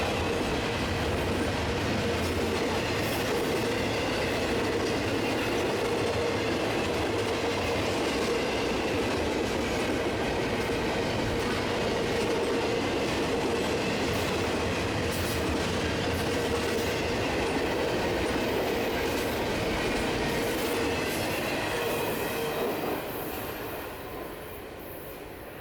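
A long intermodal freight train rolls past continuously on the Water Level Route in Ohio, its steady rumble and rhythmic wheel clatter holding for the whole stretch before easing off at the end.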